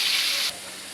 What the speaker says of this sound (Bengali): এই যে পেঁয়াজ মশলাটা ভাজা নিচ্ছি